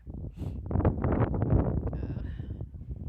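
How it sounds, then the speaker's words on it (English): Gusty wind in New Mexico buffets the microphone in a constant low rumble, with a voice speaking faintly underneath. "it's very windy"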